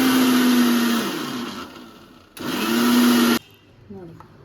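A kitchen mixer grinder whirs loudly for about a second, slows and winds down, then runs again in a second loud burst before cutting off abruptly, leaving quiet room sound.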